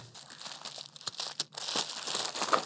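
A shipping package is opened from the top, its plastic or paper wrapping crinkling and tearing in close, continuous bursts with a brief pause midway.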